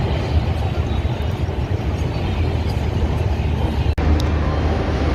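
A train moves through a station at Nagpur with a steady loud rumble and rolling noise, plus a brief sharp click near the end.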